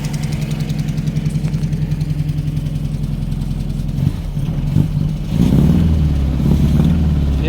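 A Ford Escort MK3 GLE engine idles roughly with a rhythmic, uneven chug and ticking from a misfiring cylinder, close and loud, then a few blips and a deeper, steadier running note.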